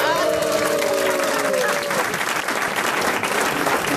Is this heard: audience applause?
yes